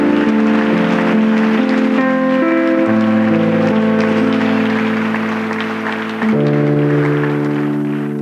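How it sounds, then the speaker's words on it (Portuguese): A church congregation applauds during a Pentecostal worship service, the clapping a steady wash running beneath sustained keyboard and organ chords that shift throughout. "aplauda o Senhor"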